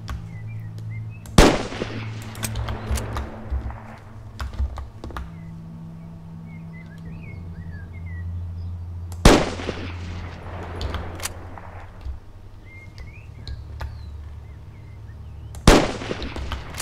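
BB gun fired in the survival video game Next Day: Survival, three sharp isolated shots spaced several seconds apart, loud and close over steady game ambience and a low engine-like hum.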